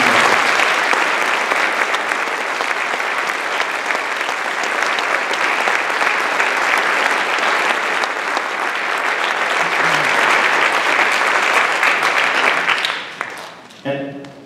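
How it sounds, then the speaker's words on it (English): A high school band concert audience bursts into loud, sustained applause that fills the room for about thirteen seconds, then fades and breaks up at the end. "So how about a round of applause for that?"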